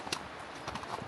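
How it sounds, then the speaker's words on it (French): A horse walking through snow in Kyrgyzstan gives soft, muffled hoof steps, faint and irregular against a steady outdoor background. "faire du cheval au Kirghizistan, dans la neige, tout seul avec le guide"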